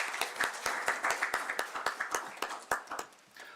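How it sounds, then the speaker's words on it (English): A small audience at a council meeting gives light applause: scattered, distinct hand claps from a few people, fairly faint and uneven, tapering off after about three seconds. "let's give them a round of applause as they come up"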